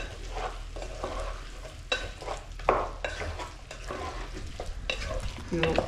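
Mushroom curry frying and sizzling in a pan, with steady hissing broken by louder bursts of stirring and clattering of the spoon against the pan.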